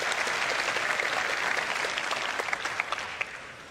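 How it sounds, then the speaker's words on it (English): An audience at CitizenCon 2024 claps steadily, a dense wash of applause that gradually thins out toward the end with a few scattered final claps. "Hold for applause."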